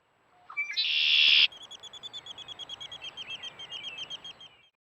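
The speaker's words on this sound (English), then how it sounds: "Red-winged blackbird typical call is a distinctive check, and is pretty easy to recognize" Red-winged blackbird calls: a loud harsh burst at first, then a steady series of about twenty short, evenly spaced sharp call notes, close and clear with no voices.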